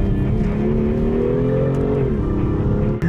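A BMW M2 Competition with the S55 engine accelerates hard, a loud close engine note climbing in pitch through the revs before easing off near the end, with no speech.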